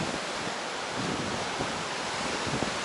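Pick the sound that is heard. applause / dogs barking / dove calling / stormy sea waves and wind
stormy sea waves and wind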